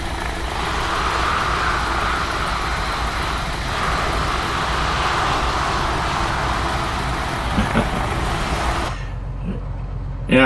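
The Cessna 182RG engine in Microsoft Flight Simulator 2020 drones loudly and steadily from outside the plane, a continuous propeller hum that cuts off abruptly near the end, leaving a low hum.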